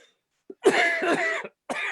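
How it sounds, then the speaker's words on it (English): A single harsh cough, close and fairly loud, followed by a brief second burst after a short pause. "do excuse my cough"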